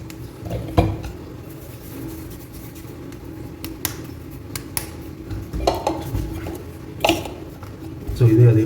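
Wheat snack dough mixed in a bowl, with scattered clinks and scrapes of a spoon against the dish and soft squishing, under a person talking throughout.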